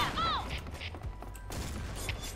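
Gunfire in the online shooter game Point Blank: a few scattered shots and bursts of varying loudness, with a brief chirping tone near the start.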